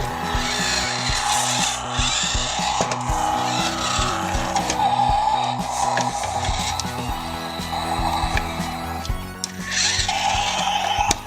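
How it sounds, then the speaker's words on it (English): Toy Monster Jam monster truck engine revving, a continuous loud electronic motor roar with squealing tire-like effects that swells and dips throughout, alone without talk. "Wow, did you hear the engine rev?"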